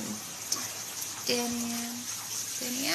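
Water runs into a filling bathtub while some drains away, a steady splashing gush heard close, with a voice and brief chatter over it.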